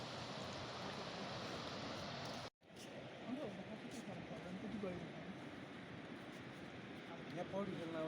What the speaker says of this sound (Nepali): मर्स्याङ्दी नदी यही हो